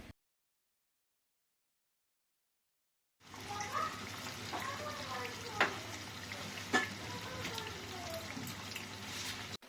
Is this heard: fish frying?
yes